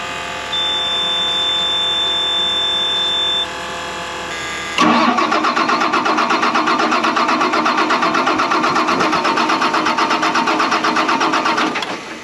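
A tractor with a CAPS fuel pump cranks with a high warning beep, then its engine catches and runs loud and close at a steady, pulsing idle for several seconds.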